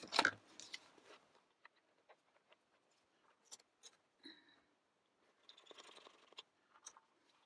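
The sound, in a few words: cutting paper with scissors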